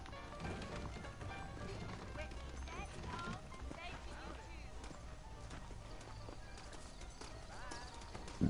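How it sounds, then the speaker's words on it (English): Horse hooves clip-clop steadily in Red Dead Redemption as a saddled horse moves along, with occasional whinnies over a continuous bed of game sound, while characters talk over it. "I got the horses saddled up and ready"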